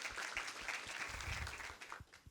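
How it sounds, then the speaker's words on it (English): Applause from a school-session audience, a brief faint patter of claps that thins out toward the end, with some low thumps underneath. "Can you give her a round of applause?"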